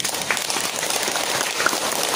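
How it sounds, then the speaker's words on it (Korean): Audience applause at a Buddhist dharma meeting in a temple hall, a dense, steady wash of many hands clapping together throughout. "동의하시다면 큰 박수 한번 보내주시죠"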